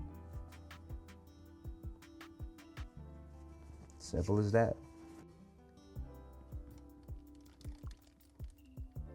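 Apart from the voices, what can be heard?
pouring candle wax into a glass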